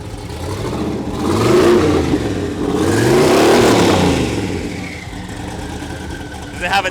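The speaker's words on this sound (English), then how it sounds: "bouncing off the rev limiter" An 1,100-horsepower truck engine on air suspension revs hard twice in long loud sweeps, climbing and holding near the limiter before dropping back to idle, with people talking nearby.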